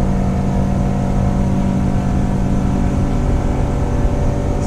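A 1987 Arima SeaChaser 17 with a Yamaha 115 outboard runs at full throttle near 6,000 RPM, giving a loud, steady engine roar mixed with wind and water rush that holds constant throughout, with no talking.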